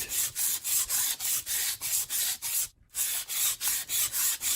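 Steady rhythmic rasping strokes of sanding on a metal sword blade, close up, back and forth in an even rhythm with one brief pause partway through.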